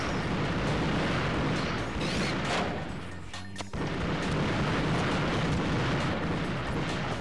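Grenade explosions in the Ratchet & Clank video game: dense, loud, sustained rumbling blasts fill the whole stretch, briefly dipping midway before roaring back.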